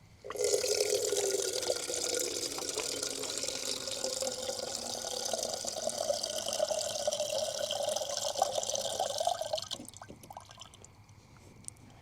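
Water from a tap runs steadily into a vessel to be heated, a close, continuous splashing stream lasting about ten seconds before it is shut off, followed by a faint clink, with no talking.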